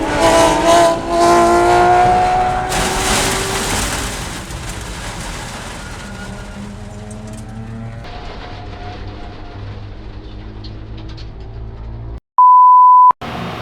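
A Lamborghini Huracan Super Trofeo Evo race car spins out on track, engine revving and wailing with tire noise before fading to a lower rumble, ending in a sharp electronic beep.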